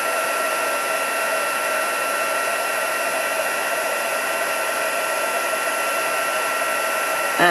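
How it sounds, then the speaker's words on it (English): A heat embossing tool blasts hot air in a steady, close, hair-dryer-like whoosh with a whiny fan tone. It runs unbroken throughout, with no talking. "So just heat up my heat tool and blast."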